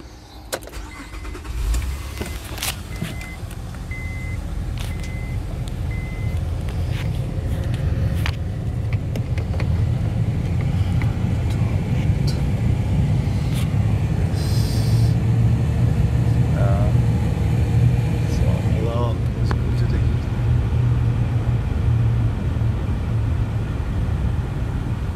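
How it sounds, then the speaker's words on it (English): An Acura MDX with a climate-control fault starts up and idles steadily close by, a continuous engine rumble with fan noise and a few faint clicks and knocks. "Now let's start the car and see."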